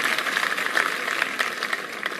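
An audience at a Bhagavat Katha religious discourse claps hands, producing a continuous, moderately loud patter of applause with uneven bursts.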